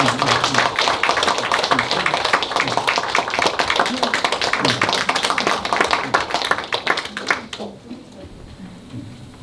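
An audience applauds at a book concert for a historical novel, with dense, steady clapping filling an indoor hall for about seven seconds before it abruptly dies away to quiet room tone.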